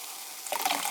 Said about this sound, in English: you open up this Mandarin Orange carbonated water and you pour it into this glass